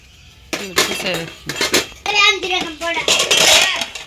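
Plates and dishes clink and knock together while being arranged, with a run of close ceramic taps and rattles scattered through the few seconds, mixed with nearby chatter.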